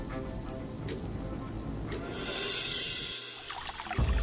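Floodwater pours into a house as a door frame gives way, a steady heavy rushing like downpour that swells midway, with a few sharper knocks near the end and no speech.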